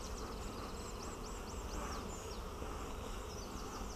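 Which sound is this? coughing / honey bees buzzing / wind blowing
honey bees buzzing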